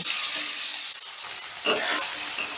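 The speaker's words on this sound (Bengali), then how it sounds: "প্রথমেই আমি সোয়াবিনগুলো ভেজে নেব" Soybean chunks fry in hot oil with salt and turmeric, giving a steady close sizzle with occasional louder stirring scrapes and bursts.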